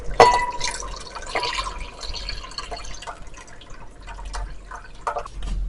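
Boiled-chicken broth poured into a pot for lemon chicken shorba, a close liquid splash and trickle with dripping, fairly quiet, no talk.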